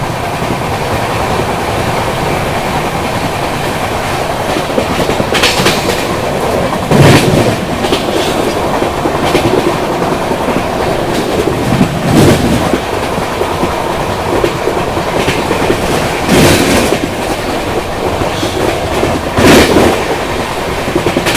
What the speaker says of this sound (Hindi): बारिश में भीगते भीगते हमारी ट्रेन नॉन स्टॉप बढ़ रही है अभी न्यू जलपाईगुड़ी की ओर